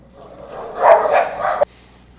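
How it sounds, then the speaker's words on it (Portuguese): Dogs bark in a short burst of a few quick, nearby barks, ending abruptly, with no talk over them. "depois dessa parada para a latição dos cachorros"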